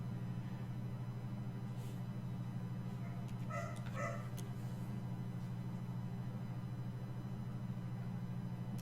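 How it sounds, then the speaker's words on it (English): Dogs playing downstairs let out a few faint, distant barks and yips in a brief cluster, muffled beneath a steady indoor hum. "Sounds like the doggies are playing downstairs."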